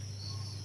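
Crickets at a cricket breeding farm keep up a steady, continuous high chirping that runs unbroken through the short moment, fairly faint, over a low background hum.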